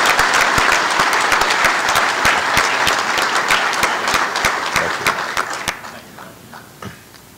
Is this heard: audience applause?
yes